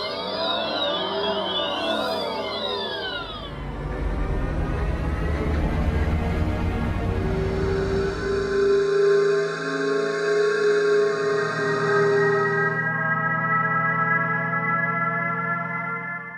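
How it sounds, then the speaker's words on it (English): Several electric car acoustic pedestrian alert sounds play in turn: a shimmering chirpy tone, then a deep droning whir, then layered sustained synthetic tones, loud and continuous with no talking. "Are you familiar with the acoustic alert for pedestrians?"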